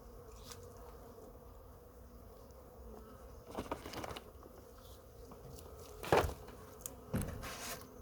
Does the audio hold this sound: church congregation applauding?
no